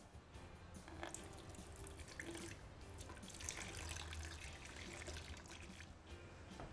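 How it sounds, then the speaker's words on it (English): Beer finings pour into a fermenter during home brewing, a faint, steady trickling and splashing of liquid close by. "we just pour the finings into the beer"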